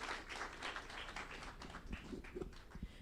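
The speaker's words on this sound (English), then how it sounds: "Let's give her a round of applause" A round of applause from a summit audience for the opening prayer speaker, scattered hand clapping heard faint and distant, thinning out toward the end.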